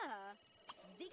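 A telephone rings in The Sims 3 video game, a short electronic ring mixed with a voice talking over it.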